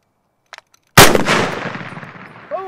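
An M1 Garand rifle fires one loud, close shot at an apple, and the blast decays over about a second and a half. A metallic ping of ejected brass follows, and a few faint clicks come just before the shot.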